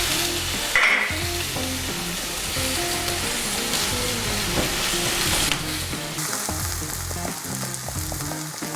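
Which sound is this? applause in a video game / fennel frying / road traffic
fennel frying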